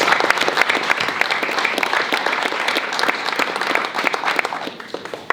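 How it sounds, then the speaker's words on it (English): An audience at a school breakfast celebration applauds students, families and presenters: sustained, crowded clapping from many hands, steady and fairly close, running the whole stretch before gradually thinning at the end. "please join me in another round of applause for all of our students, friends, families, and presenters."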